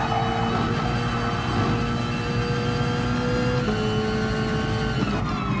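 A racing car engine in a sim racing game on the Circuit de Sainte Croix B track drones loudly and steadily under acceleration, its pitch holding and shifting slightly through gear changes, close and continuous.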